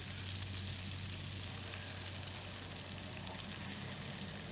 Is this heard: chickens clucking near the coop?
no